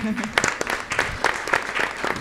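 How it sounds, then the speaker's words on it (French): Audience at a beauty pageant, the Miss RDCongo competition, bursts into quick, rhythmic applause that runs beneath people talking over it. "applaudissez pour elle quand même"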